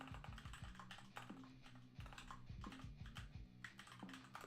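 A computer keyboard is typed on during a livestream: quick, irregular clicks and clacks at close range. The keys run in short bursts with brief pauses between them.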